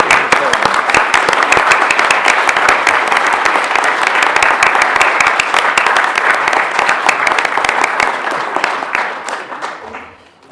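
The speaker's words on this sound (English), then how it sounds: "Ladies and gentlemen, can I have a round of applause?" Council chamber audience applauding at a full council meeting, a steady sustained round of clapping from many hands that carries on for about nine seconds before fading out.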